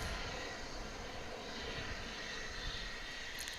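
An airliner arriving from Mexico City at DFW International Airport, a continuous broad engine roar at a distance, faint and steady with no talk.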